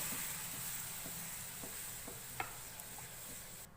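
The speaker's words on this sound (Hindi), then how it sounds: "चमचा चलाते रहेंगे और मिक्स करते जाएंगे।" A spoon stirs butter-fried flour after milk is poured in, in a pan. Faint, rhythmic scraping and soft bubbling repeat steadily at close range, with little else audible.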